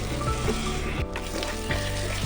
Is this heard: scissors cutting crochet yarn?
no